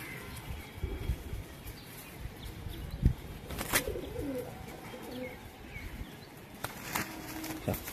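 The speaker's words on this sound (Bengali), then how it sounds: "দেখো আমার বাড়ির একজোড়া পায়রা, এটা হচ্ছে আন্ধ্রা পায়রা" A pair of Andhra pigeons at home, giving soft low coos close by, with a brief burst of wing flapping and scattered chirps from other birds in the background.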